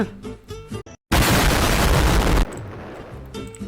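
A loud, sustained blast of noise from a bomb explosion in Roblox, roaring for over a second after a brief silence, then settling into quieter background rumble.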